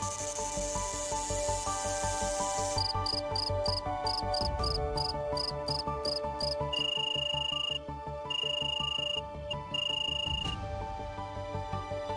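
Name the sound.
insects chirping, cicada or katydid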